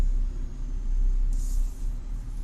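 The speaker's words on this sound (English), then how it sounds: "it's a nice little Jeep there" A Jeep engine rumbles steadily at low pitch, close and continuous, with a brief hiss rising over it partway through; no one speaks.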